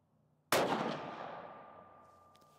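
A Sako S20 Hunter rifle fires a single shot while being sighted in: one loud, close crack whose echo rings out and slowly fades over a couple of seconds.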